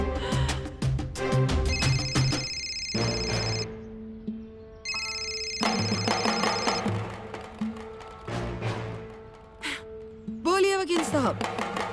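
Telephone bell rings in repeated bursts at a steady rhythm, loud and near, alternating with spoken dialogue and background music in a TV drama scene.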